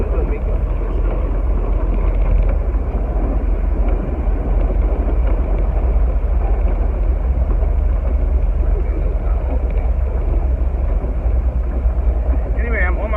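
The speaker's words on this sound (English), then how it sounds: "why is this window making so much noise?" Loud, steady roar of wind and rumble from a noisy window of a moving car, filling the cabin without a break from start to finish.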